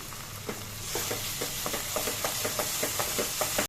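Onions, ginger and garlic frying in hot oil for a boti gongura curry: a steady close sizzle with a rhythmic series of spoon knocks and stirring scrapes against the pan.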